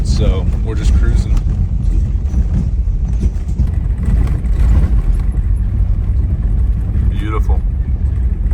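Land Cruiser crawling slowly over a rough road, a loud low rumble with bumps, knocks and rattles from the rough surface, continuous and close.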